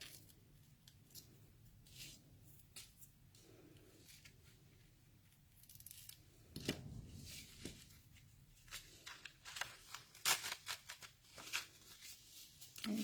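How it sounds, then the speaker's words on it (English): Scissors trimming the ends of a double-knotted ribbon or twine on a papercraft card, a series of quiet snips and light paper rustles, close by with no talking. "then we'll just trim our ends."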